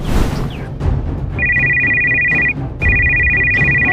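A phone ringtone chimes loudly in two sustained electronic bursts over a busy background of film sound.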